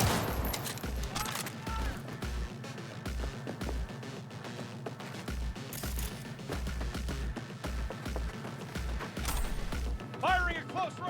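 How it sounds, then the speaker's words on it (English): Close-range gunfire in the video game Cyberpunk 2077 sounds as a fast, regular series of heavy thumping shots over a busy combat backdrop, with voices in the mix. "Firing at close range."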